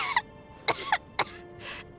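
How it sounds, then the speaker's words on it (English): A character in Genshin Impact coughs several times in short, separated bursts, fairly close and clear against a quiet background, with a little throat clearing between them. "How long have you had that cough, Tonya?"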